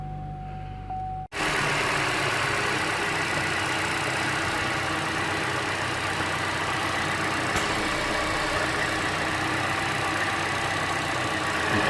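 A Chevy Cruze engine catches after a brief quiet moment and settles into a steady, loud, close idle with a continuous low hum, following a PCV valve bypass repair.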